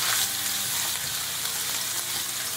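Ginger and garlic fry in hot oil with cumin for achari chicken, giving a dense, even sizzle close by with faint scraping from stirring in the pan and no voices.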